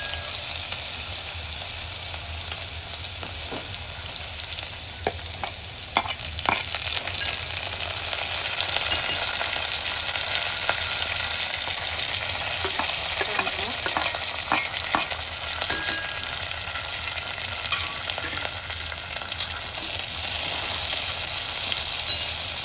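Onion and chillies frying in a pan for dal tadka, a continuous loud sizzle with intermittent scraping strokes of a spoon stirring throughout, no voices.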